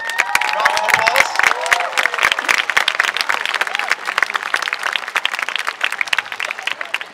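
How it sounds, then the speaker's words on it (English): Applause for the St. Patrick's School band at an evening performance, dense clapping from a crowd with scattered cheers that runs steadily throughout, fairly loud and close. "Can you give them a round of applause?"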